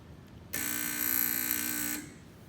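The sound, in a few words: spark timer marking paper tape with sparks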